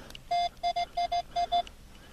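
A metal detector sounds a repeating electronic beep signal outdoors during a dig, seven clear tones in quick uneven pulses, near and fairly loud over faint background noise.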